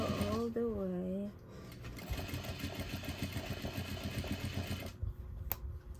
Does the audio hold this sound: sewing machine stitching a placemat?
yes